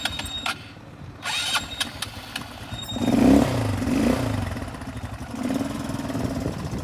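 A motorcycle engine rumbles and revs up in surges close by, with rattly idling between the swells and scattered clatter before it.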